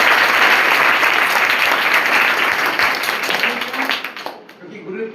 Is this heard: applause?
yes